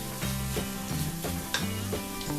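Masala for Thalassery egg biryani is stirred in a hot pan, giving a close, steady sizzle broken by short scraping strokes of the spoon.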